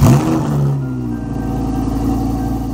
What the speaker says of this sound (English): Car engines.